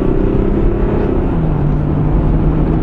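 Jeep Grand Cherokee engine heard from inside the cabin pulling hard, a loud steady low rumble with a rising drone and a gear change partway through, no voices.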